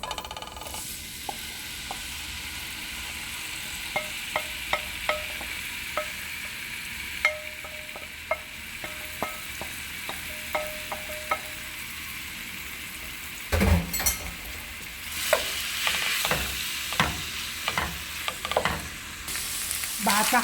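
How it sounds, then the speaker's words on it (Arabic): Oil sizzles steadily in a pan as 300 g of hand-cut meat fries, with intermittent stirring and light metallic clinks of a utensil against the pan, close and fairly quiet with no talking. "خليت المقلاة على النار وضفت الزيت 3 معالق كبار، وراح أضيف اللحم 300 غرام لحم قطعته بيدي"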